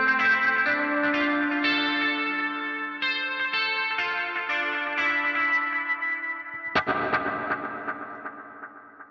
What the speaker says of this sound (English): Dan Steinhardt from the pedal show made a tone print that's really close to his old Boss CE1